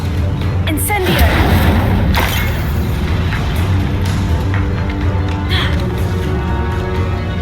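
Incendio fire spell cast in the Hogwarts Legacy video game, a loud sustained whooshing, booming burst with heavy low rumble and crackle throughout, a voice shouting briefly near the start.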